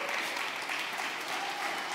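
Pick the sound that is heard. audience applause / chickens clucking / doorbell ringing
audience applause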